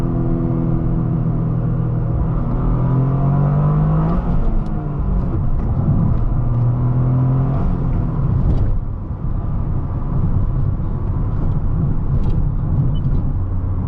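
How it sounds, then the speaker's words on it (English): Toyota GR Corolla 2023 hatchback with a turbocharged 3-cylinder engine, heard from inside the cabin as it accelerates with rising revs. A steady, loud engine drone runs throughout, with a shift-like dip midway. "Love the sound of this 3-cylinder."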